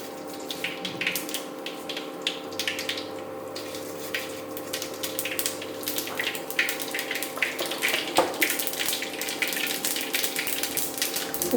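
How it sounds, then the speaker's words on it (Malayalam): Mustard seeds crackle and pop in hot coconut oil, a rapid, irregular sputtering that carries on without any talking. "എന്നിട്ട് കടുക് പൊട്ടിക്കും"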